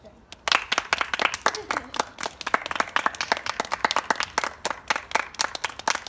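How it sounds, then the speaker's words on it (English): Several people clap their hands near a horse to get it used to the noise, sharp distinct claps in an uneven, fairly quick rhythm, close by and fairly loud, with brief gaps between bursts. "now let's clap and then keep doing it until I say stop"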